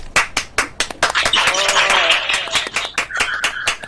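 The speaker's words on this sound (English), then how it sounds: "Round of applause." Studio audience claps and cheers for a guest on a podcast, a dense, close burst of applause with sharp hand claps spread across the whole span, with no talk.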